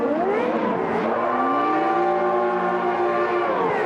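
Formula One race cars launching off the grid in the racing game Automobilista, a loud layered engine whine that climbs steadily in pitch as several cars accelerate together.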